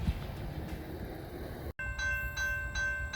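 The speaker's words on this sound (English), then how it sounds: "So the train will be coming from that way." A slow freight train, moving at about ten miles an hour, approaches with a steady low rumble of railcars after a brief cut, with sustained horn-like tones sounding over the rolling noise.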